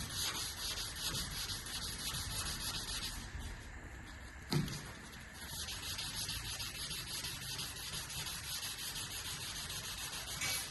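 Continuous gritty rubbing of wet sanding a car body panel before paint, with a steady hiss, one brief knock midway, no voices.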